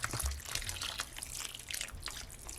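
Water pours into a pot of curried lentils, a steady splashing trickle with soft bubbling, close by and fairly quiet, continuing without pause.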